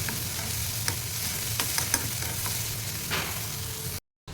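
Tomato pieces lightly fry in a pan with a steady, close crackling sizzle, punctuated by a few sharper pops and spatula scrapes, before a brief cut to silence near the end.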